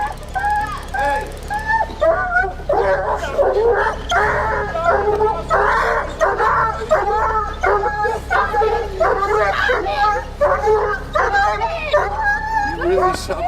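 A dog that has been shot whimpers, yelps and barks in pained, repeated bursts close by, with people shouting over and between the cries.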